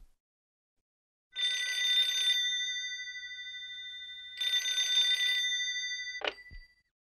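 A telephone rings twice for a call to a hotel, two electronic trilling bursts about a second long, clear and alone, then a short click as the receiver is picked up.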